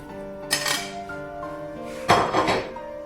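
Chicken pieces and shiitake mushrooms are dropped into a metal pressure cooker in a kitchen, giving two separate clattering bursts of metal and utensil clinks over a faint steady hum.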